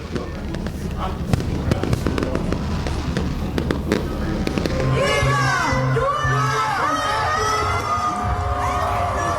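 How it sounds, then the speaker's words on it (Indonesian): Fireworks at a New Year's Eve display in Bali pop and bang in quick irregular bursts, then give way to a dense, sizzling crackle, with a crowd faintly audible in the background. "Pesta kembang api di GWK ini berlangsung selama kurang lebih 5 menit"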